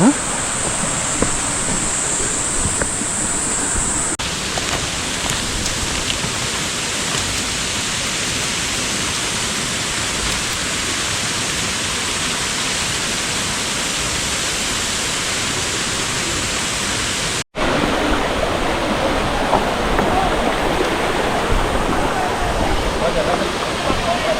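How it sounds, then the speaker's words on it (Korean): Twin waterfall, the First Falls of Naeyeonsan's twelve falls near Bogyeongsa in Pohang, a loud continuous roar of cascading water heard up close, with a brief dropout and a slightly brighter rush afterward. "내연산 12폭포 중에 제1폭포 쌍폭포네요"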